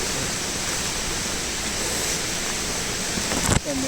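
A waterfall roars as a steady, dense wash of falling water, loud and close, continuing without pause and ending with a brief bump near the end.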